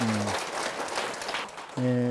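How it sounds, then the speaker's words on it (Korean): During a Buddhist monk's lecture on the Avatamsaka Sutra, a listening audience gives a quick round of clapping lasting just over a second, set between stretches of a voice. "박수"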